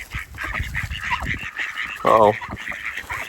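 Ducks quack and honk close by in a busy chatter, with one loud, nasal call standing out in the middle.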